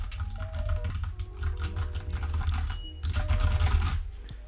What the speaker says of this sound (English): you'll hear me typing like this